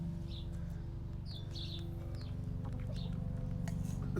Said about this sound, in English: Does that little chirp mean no?